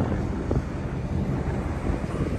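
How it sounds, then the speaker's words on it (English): Steady, loud wind buffeting an outdoor microphone in a small rural town, a continuous low rumble with gusting surges throughout and no other sounds. "Excuse the wind"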